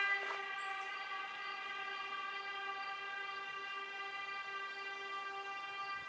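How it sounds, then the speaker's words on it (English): A loud, sustained horn blares outside from a street setting, held as one long steady tone that slowly fades, with no talking. "someone's just honking their horn"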